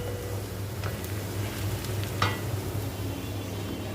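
A roast cooks in a pan for a birthday meal, a faint steady sizzle with occasional soft pops and a brief utensil clink, heard quietly at close range.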